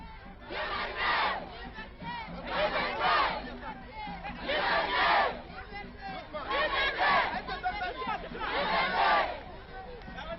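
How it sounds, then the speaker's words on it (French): A crowd of demonstrators cheers and chants in rhythmic surges, about five loud swells of massed voices acclaiming a leader, with babble continuing between bursts. "nous verrons des manifestants venir l'acclamer, lui et ses camarades"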